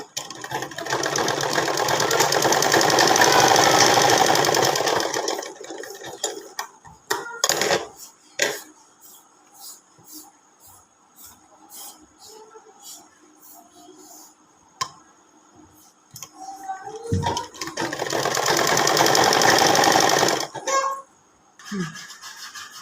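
A sewing machine runs in two long bursts at the start and end, stitching a churidar shoulder seam. Between the bursts come clicks, handling sounds and someone talking nearby.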